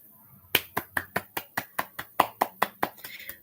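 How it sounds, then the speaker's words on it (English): A single pair of hands claps about a dozen times in a steady, even rhythm, close and crisp, with no voices over it. "Round of applause."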